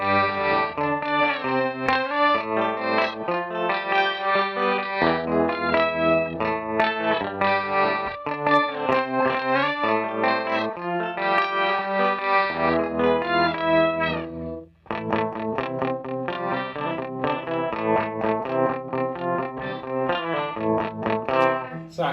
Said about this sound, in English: So right here I've got like a pitch shift.